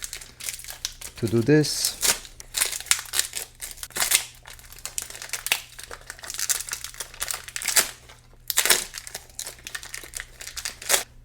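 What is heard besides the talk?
tearing open plastic ink package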